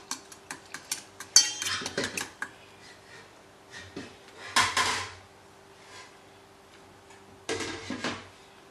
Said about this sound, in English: I just take a fork and mix it up because your cinnamon is going to float to the top.